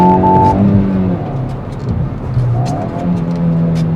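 A Hyundai i20N hot hatchback accelerating hard in second gear, its small performance engine revving up loudly and steadily close by, with rising harmonic engine tones across the whole stretch and no talk.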